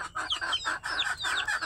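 Desi chickens clucking nearby in a steady run of overlapping calls, fairly loud and continuous with no speech.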